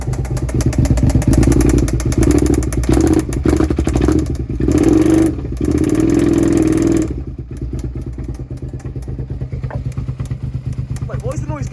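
Engine of a 1999 first-generation carbureted Suzuki SV650 motorcycle idling with a lumpy, uneven beat and some clatter, loud and close, with a voice speaking over it in the first part.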